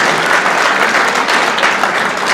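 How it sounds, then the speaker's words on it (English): Audience applause in a lecture hall at Trinity College Dublin, dense steady clapping from a large crowd, loud and continuous throughout. "So if you can just give him a round of applause as well"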